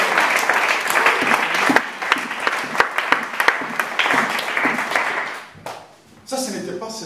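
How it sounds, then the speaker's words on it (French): A church congregation at a live sermon claps and cheers for Jesus Christ: dense, loud applause with sharp individual claps over crowd voices, thinning and dropping away near the end. "Quelqu'un acclame pour Jésus-Christ."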